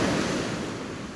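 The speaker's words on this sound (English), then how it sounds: "Look at the waves!" Atlantic waves at Praia da Lagoa de Albufeira, Portugal, wash steadily onto the shore in a continuous, broad rushing roar, fairly faint, with no voices present.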